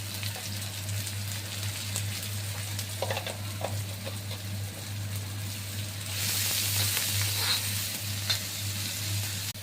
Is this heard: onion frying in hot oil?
yes